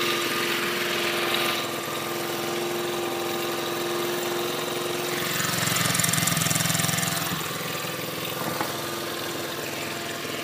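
A small engine on a homemade go-kart runs steadily at idle, a continuous close buzzing drone with a slight swell in the middle, no talking over it.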